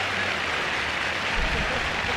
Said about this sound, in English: And the crowd absolutely love it